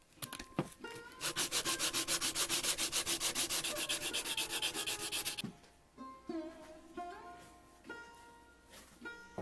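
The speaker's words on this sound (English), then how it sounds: "New sections of the handle must be cleaned of the remnants of dried glue. Cleaned with sandpaper and painted." Sandpaper rubbing over new sections of a wooden axe handle to clear off dried glue makes a steady rhythmic back-and-forth scraping for several seconds, close and fairly loud, then stops and leaves quiet workshop noises.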